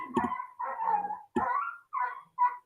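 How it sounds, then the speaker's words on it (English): Three poodles barking indoors, five sharp yapping barks in quick irregular bursts, fairly close and moderately loud with no talking over them. "Oh, my mom's dogs. She's got 3 poodles."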